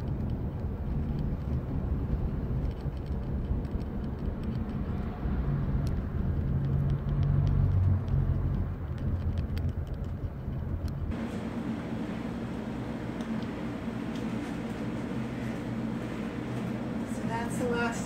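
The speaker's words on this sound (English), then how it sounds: "sometimes the traffic we get." Steady road traffic rumbling past on a Dallas street in mid-afternoon, a continuous low engine drone with a louder swell from a passing vehicle around the middle, heard fairly close and alone.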